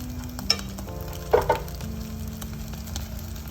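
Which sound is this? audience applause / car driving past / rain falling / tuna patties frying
tuna patties frying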